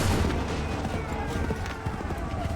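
Soldiers in Assassin's Creed III fire a volley of muskets, a dense burst of overlapping shots with a ragged crackling tail in a busy battlefield mix.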